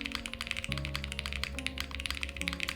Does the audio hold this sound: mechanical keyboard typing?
yes